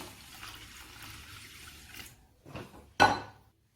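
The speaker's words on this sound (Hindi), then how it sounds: "अब मैं बाजरे में जितना बाजरा डूब जाए उतना पानी डाल दूंगी।" Water is poured into millet in a pot for kheer, a steady splashing pour that stops, followed by a brief trickle and a sharper final splash; no speech.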